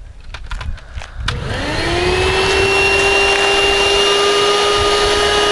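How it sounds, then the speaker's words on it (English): An old household vacuum cleaner switched on after a few clicks and bumps, its motor whining up to a loud, steady, close drone with a high tonal whine. "Get the old vacuum for the house out of the closet."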